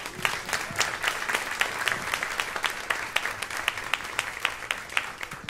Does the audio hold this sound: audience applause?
yes